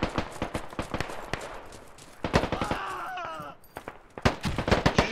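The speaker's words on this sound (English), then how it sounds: "somebody keeps popping shots off to the left" Gunshots in the multiplayer shooter Squad: sharp cracks and short automatic bursts, some close and loud, others farther off, scattered irregularly across a tense firefight with a brief whining tone in the middle.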